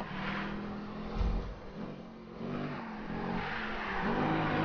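Video-game car drifting in Need for Speed Rivals: a steady engine drone with shifting revs and a faint tire hiss, held at a moderate level, with no talking.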